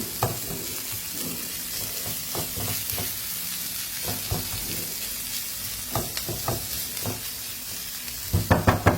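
Chicken sisig sizzles steadily in a pan while a spoon stirs it, sharp scraping strokes clicking against the metal over a constant frying hiss that grows busier at the end.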